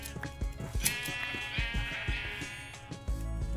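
Sheep in the Minecraft video game bleat several times in quick, uneven succession, faint and layered over a quiet steady game background.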